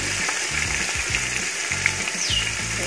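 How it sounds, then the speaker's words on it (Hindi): Chopped onions fry in a pan after garlic and ginger for a spicy karhi pakora, giving a loud, close, steady sizzle with occasional stirring scrapes. "अब हम इसमें प्याज जो हमने काट के रखे थे, अब इनको हमने फ्राई करना है।"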